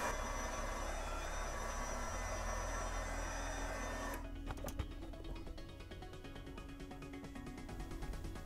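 A heat gun blows hot air onto foam for a Boba Fett jet pack, producing a steady close hiss and whirr that shifts in tone partway through, with a few faint clicks.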